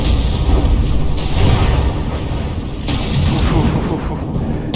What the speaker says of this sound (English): Scharfschutze firing its forward guns